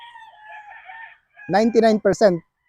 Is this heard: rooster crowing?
yes